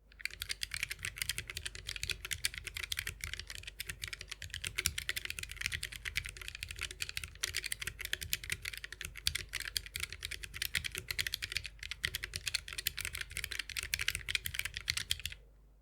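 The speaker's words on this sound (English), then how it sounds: "These feel and sound like what I imagine typing on a Lego keyboard would be like." Rapid, continuous clacky keystrokes on a TOTEM wireless mechanical keyboard, bright, high-pitched and scratchy, typed steadily at close range with no voices.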